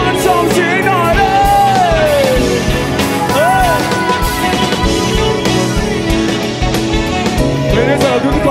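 Concert crowd at a live show yelling, whooping and cheering loudly and continuously, dense and close, with a singer's voice sliding over the roar at times.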